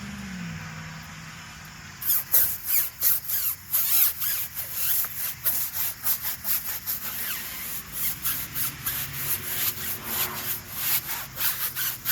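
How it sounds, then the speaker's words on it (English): A brush scrubbing a tire with Meguiar's Hot Rims wheel and tire cleaner, producing steady, rhythmic back-and-forth rubbing strokes that are close and fairly loud, with no talking. "One of the main reasons you want to scrub your tire"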